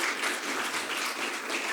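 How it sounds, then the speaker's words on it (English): An audience at a generative AI tech event applauds to welcome a speaker. The sustained crowd clapping is moderately loud and even, with no talk over it. "Round of applause to Norberto,"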